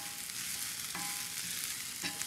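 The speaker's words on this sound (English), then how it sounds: "So this is gonna be mostly cooked in this pan. I'm using a 10-inch non-stick skillet" Vegetables sizzle steadily in a 10-inch oven-safe non-stick skillet, a constant close frying hiss broken by two brief clinks or stirs of a utensil against the pan.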